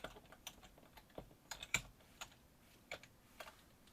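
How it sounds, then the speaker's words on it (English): HTML code is typed on a computer keyboard, with quiet, close key clicks in an irregular rhythm and a few louder presses. "So I'm going to first start to type in an HTML tag."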